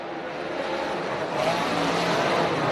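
Race cars on a short dirt or asphalt oval roar together as the field charges back to green on a restart, a dense, steady engine drone that swells louder midway.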